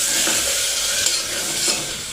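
Ground gravy paste fries and sizzles in hot oil for a sprouts curry, with a steady hiss and scraping stirring strokes throughout, close and fairly loud, no talking.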